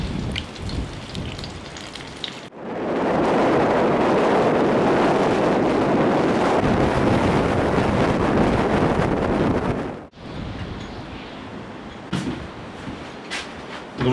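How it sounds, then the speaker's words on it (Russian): Strong stormy wind on the Absheron Peninsula roars into the microphone in a loud, steady gust lasting several seconds, with lighter buffeting before and after. "Сегодня на Апшероне такой штормовой ветер."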